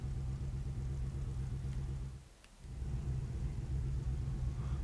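Lamborghini Sesto Elemento engine in Real Racing 3, a quiet low rumbling drone that briefly dips away midway before returning steady, faint and without voices.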